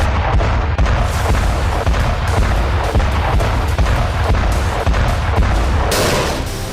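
Rocket and artillery fire in the Armenia–Azerbaijan war near the Iranian border, a dense, continuous roar of booms and rumbling blasts at loud, sustained intensity with no clear gaps; no talking.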